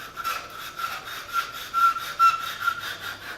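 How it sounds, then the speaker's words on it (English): Cloth-backed sandpaper rubbed over wood in steady, rhythmic back-and-forth strokes, close and moderately quiet, with no voices. "I'm going to go through both halves, and I'm going to do a little sand."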